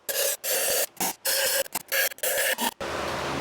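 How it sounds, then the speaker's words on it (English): Compressed shop air blasted through a turbo from a twin oilless turbo G8 build, coming as a run of sharp, loud hissing bursts with short gaps, then settling into a steadier, softer hiss. No one speaks. "So I'm just gonna blow this out with some shop air."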